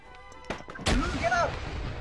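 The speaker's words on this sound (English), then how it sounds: "Another grenade" A grenade explosion in Arma 3, a sharp loud blast with a rumbling tail near mid-clip, following a smaller thump, with voices talking over it.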